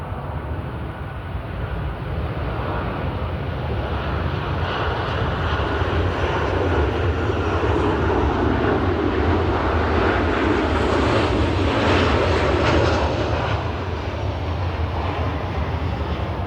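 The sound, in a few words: airplane flying by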